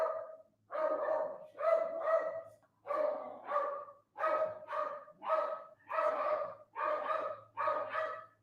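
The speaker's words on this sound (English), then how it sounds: "Oh my gosh, my dog." A dog barking on grass-mowing day, upset by the lawn work, a long run of sharp paired barks in a steady rhythm, close and prominent, with a faint low mechanical hum underneath.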